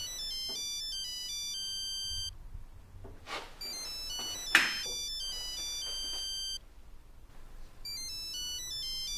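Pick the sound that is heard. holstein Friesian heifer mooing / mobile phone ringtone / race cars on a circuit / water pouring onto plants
mobile phone ringtone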